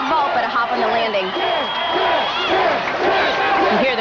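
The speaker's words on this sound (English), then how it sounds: "You hear the crowd chanting 10." Crowd at the 2003 NCAA Gymnastics Championships chanting in rhythm after a vault, a dense, steady arena roar with a commentator's voice talking over it throughout.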